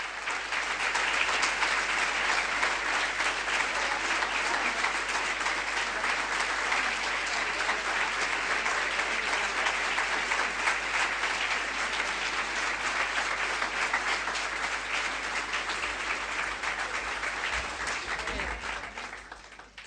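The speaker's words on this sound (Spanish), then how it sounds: "Estos aplausos son para Virgen María y para Dios" Sustained, dense audience applause in a large hall during a religious testimony, loud and even for about twenty seconds before easing off at the end.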